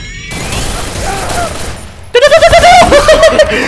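An MP40 fires in the Free Fire video game: after a softer, noisy stretch, a rapid, loud string of gunshots rattles out in quick, evenly spaced pulses up close.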